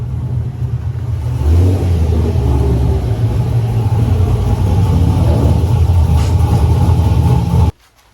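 A Chevrolet Corvette's engine runs steadily with a low, loud rumble while the car is pulled in, swelling briefly early on before cutting off abruptly near the end.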